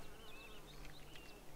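Faint buzzing of bees around a beehive in the Wylde Flowers video game, a soft wavering drone with small flickers, heard alone at low volume.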